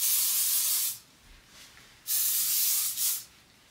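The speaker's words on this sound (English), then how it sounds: "in where I just spray underneath my hair." Two bursts of hairspray hiss close by, a long blast followed by shorter puffs, each with a sharp start and quick fade.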